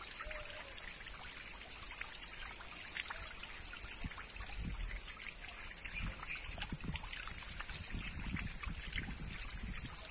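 Water splashes and trickles in a fish pond, a constant near rushing and bubbling wash with a high steady hiss running throughout.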